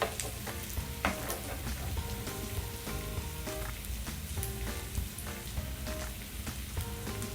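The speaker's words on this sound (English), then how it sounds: "Just fry an egg there." An egg frying in a pan on a griddle for an English breakfast okonomiyaki, a steady close sizzle and crackle with faint clinks running throughout.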